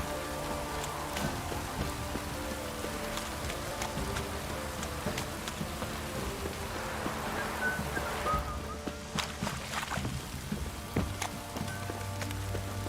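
Steady rain in the video game The Witcher 3: Wild Hunt patters and hisses continuously over a low droning background, dense and unbroken, with occasional sharper drips standing out.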